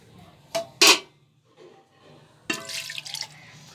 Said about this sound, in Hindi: अभी हम इसमें थोड़ा दूध और डालेंगे।